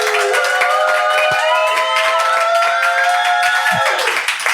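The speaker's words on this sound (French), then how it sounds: "je vous demanderai d'applaudir bien fort tous autant que vous êtes" An audience at a comics talk in a large concert hall applauds loudly, a dense sustained wash of clapping with a few faint cheers mixed in.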